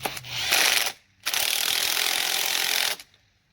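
Hand ratchet clicking as it drives bolts into a 350 small-block Chevy engine during a rebuild, two quick bursts of fast, close clicking separated by a short pause.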